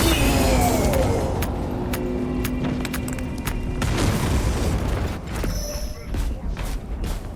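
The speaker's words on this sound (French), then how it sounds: "Grenade choc" A shock grenade bursts during a Space Marine 2 multiplayer match, a dull boom set within a dense wash of gunfire, rumbling machinery and game effects, with a voice speaking over the clamor.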